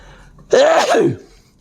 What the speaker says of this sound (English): I'm going to sneeze in both these videos